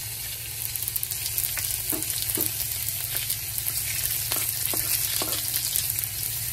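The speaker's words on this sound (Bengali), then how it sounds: "শুকনো লঙ্কা আর তেজপাতা দিয়েছি ফোড়নে, আর এবার দেবো পাঁচফোড়ন।" Panch phoron spices crackle in hot oil for a tempering alongside dried red chillies and bay leaves. A steady close sizzle is scattered with sharp pops and spits, with no voices.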